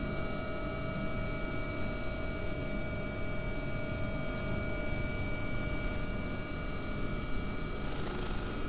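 An AW-139 helicopter in the X-Plane 11 flight simulator drones with a steady, loud mix of rotor thrum and turbine engine whine and a high tonal hum, holding constant throughout with no speech.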